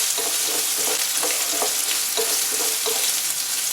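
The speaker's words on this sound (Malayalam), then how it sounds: "അപ്പോൾ നമുക്ക് സവാള അങ്ങ് ആഡ് ചെയ്യാം. ഒന്ന് സോട്ടേ ചെയ്യുക." Onion sautéing in a pan for vermicelli upma gives a close, steady sizzle, broken by soft scrapes of stirring at irregular intervals.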